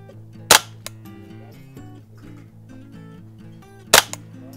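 Two sharp rifle shots ring out about three seconds apart from a Tactical Solutions survival rifle fired at a target, each a loud crisp crack, over a steady background hum.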